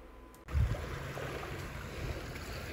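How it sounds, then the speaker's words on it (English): A radio-controlled G.I. Joe Cobra Moray torpedo boat toy drops into river water with a close splash, followed by steady churning and sloshing of water around the hull. "So this is really the first time I'm putting it in the water as a complete vehicle."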